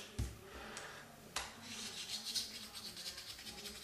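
Loosened caulk being wiped off a bathtub edge, quiet rubbing and rasping strokes with a couple of sharper knocks, close up and faint overall.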